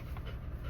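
A dog pants in quick, breathy huffs close by inside a vehicle, a brief steady burst with no talking.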